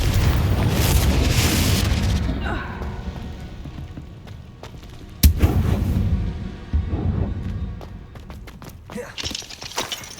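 Confringo spell blasts in Hogwarts Legacy, played on Xbox Series X, go off as heavy booming explosions. A big burst comes first and a sharp crack follows midway, with a scattering of smaller impacts and some game voices mixed in.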